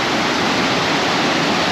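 Loud, steady roar of heavy rushing water at Josephine Falls, a close, dense and unbroken torrent with no voices.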